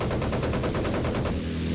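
Continuous automatic gunfire in the World War II shooter Battlefield 1943, a loud, dense stream of rapid shots that holds steady with no pauses and no talking.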